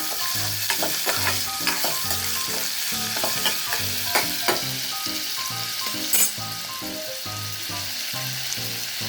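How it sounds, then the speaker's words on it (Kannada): Chopped onions fry in a pan for a dill leaf pulao, sizzling steadily while a spoon scrapes and stirs in a loose repeating rhythm, close and loud with no voices. "ಸ್ವಲ್ಪ ಈರುಳ್ಳಿ ಹಾಕೊಂಡಿದ್ದೆಲ್ಲ ಅದು ಇದ್ದೀನಿ ಹೆಚ್ಚಿದ್ದು ಹಾಕಿಬಿಟ್ಟು ಇದನ್ನು ಚೆನ್ನಾಗಿ ಹುರ್ಕೋಬೇಕು"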